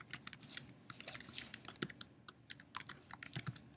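A username typed on a computer keyboard: quick, uneven bursts of clicky keystrokes at close range, with no talking.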